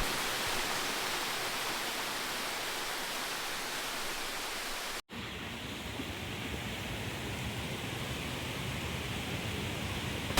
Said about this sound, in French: C'est la 8e et dernière cascade.